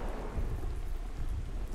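Steady rain pours down in ARK: Survival Ascended, a dense continuous patter on surfaces with low rumbling thunder underneath, loud and unbroken with no talking.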